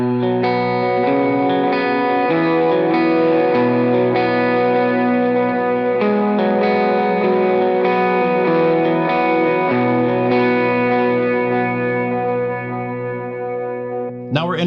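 A distorted electric guitar with shimmering chorus plays sustained, layered chords and riffs for about fourteen seconds, loud and continuous, with no voice.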